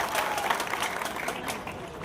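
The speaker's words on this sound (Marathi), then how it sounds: "जोरदार टाळ्या वाजवाव्या।" An audience applauds at a public political gathering, a brief, steady wash of clapping from a crowd that holds for about two seconds.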